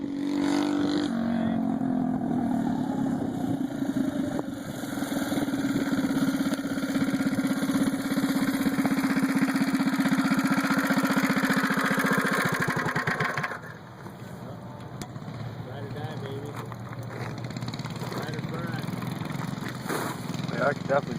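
Small mini bike engines racing around a track drone loudly with a buzzing, steady tone for about thirteen seconds, then drop to a quieter, rougher hum, with people talking over the noise.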